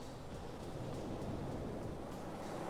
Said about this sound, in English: A gust of wind,